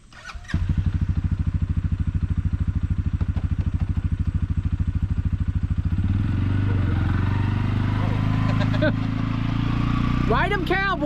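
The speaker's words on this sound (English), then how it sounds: "I'm going to drive the ATV forward on" An ATV engine runs close by with a steady pulsing idle, then revs higher as the quad drives forward onto a Sport Haven trailer, and a voice talks briefly near the end.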